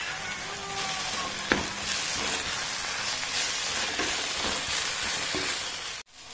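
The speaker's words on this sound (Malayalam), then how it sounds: "എന്നിട്ട് നന്നായിട്ട് ഈ പൊടികളുടെ പച്ചമണം ഒന്ന് മാറുന്നവരെ ഒന്ന് വഴറ്റിയെടുക്കാം" Spice powders and biryani masala sautéing in a pan for chicken biryani, a steady dense sizzle close up with a few scrapes of stirring, ending abruptly.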